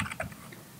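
Quick bursts of keystrokes on a computer keyboard as a username is typed into a form, close and clear with no talking, a few rapid taps followed by quieter ones.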